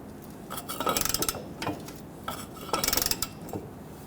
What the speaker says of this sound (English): So if you use your ratchet, you should be able to do some light pressure, a little bit of torque,